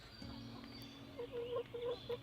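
A backyard flock of chickens, including Easter egger and olive egger hens, clucks softly in short repeated bursts at a moderate distance over a steady outdoor background.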